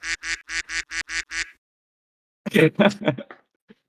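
A cartoonish duck quack from a Discord soundboard repeats in a quick series of about six nasal quacks, then after a pause a person speaks briefly.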